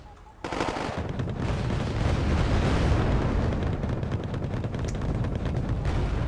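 Battle sounds from the real-time strategy game Wargame: AirLand Battle, with Marines and vehicles trading fire. Loud, dense gunfire and explosions begin abruptly and continue as a steady roar of combat.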